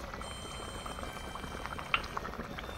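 Raw, unheated mustard oil being poured into a kasundi mixture gives a soft, continuous liquid gurgle with faint bubbling, close but quiet, with a couple of small clinks and no speech.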